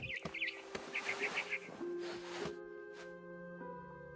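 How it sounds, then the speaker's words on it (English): Barn swallow chirping outside a window in the game What Remains of Edith Finch: a quick run of five or six bright, high chirps, fairly near, over sustained soft music tones and a low background hum. "Then I heard chirping outside my window. It was a barn swallow going back to her nest."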